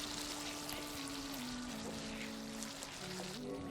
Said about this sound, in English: So here goes in my meatballs.